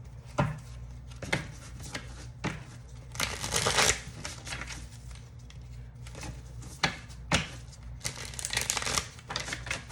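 Tarot cards are shuffled by hand to draw clarifiers, with repeated crisp riffling bursts and soft slaps close up, no talking.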